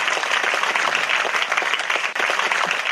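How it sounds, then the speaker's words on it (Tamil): Sustained, loud applause from an audience at a women's association silver jubilee celebration in Tamil Nadu, a dense, steady wash of clapping that fills the whole stretch with no voices over it. "சேலம் நகரத்தார் மகளிர் சங்கத்திற்கு ஒரு பலத்த கரகோஷம் ப்ளீஸ்."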